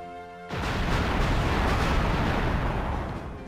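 Cannon towers fire in the strategy game Anno 1602, a sudden heavy blast that breaks in after a brief tonal intro and rolls on as a dense, sustained rumble of explosions.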